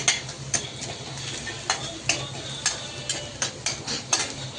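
Spices and cluster beans are sautéed in a pan, a spoon scraping the pan in regular strokes about every half second over a low, steady sizzle.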